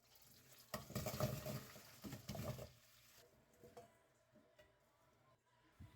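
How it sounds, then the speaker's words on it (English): Apple pieces hitting 40 grams of melted butter in a pan for an apple pie, a close, soft sizzle and clatter that swells in two bursts and then settles into quieter crackling and small stirring sounds. "Now we melt a 40 grams of butter. Afterwards, we add the apples."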